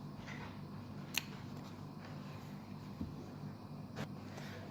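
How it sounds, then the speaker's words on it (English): Scissors make a few faint, sparse snips through fabric, cutting a straight buttonhole slit by hand, close by in a quiet room with low background hum. "So you just cut a straight line this way to the point where you marked."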